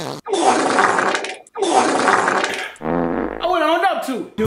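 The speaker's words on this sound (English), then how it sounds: "That loud ass fart" A loud, drawn-out fart in two long bursts, followed by a shorter buzzing one and then a voice reacting in a rising, wavering tone.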